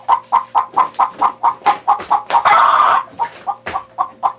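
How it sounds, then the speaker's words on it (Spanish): A hen clucks rapidly and rhythmically close by, a fast series of sharp clucks broken by one longer, louder squawk midway before the steady clucking resumes. "Cállese, gallina."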